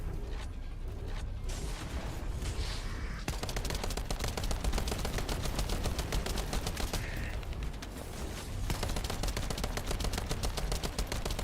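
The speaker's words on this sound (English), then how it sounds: "This assault rifle is like the best consistent DPS weapon that we have." Rapid sustained assault rifle fire in the looter-shooter video game The First Descendant, dense regular bursts of shots running almost continuously, loud and close, with a brief sparser stretch early on and game effects layered underneath.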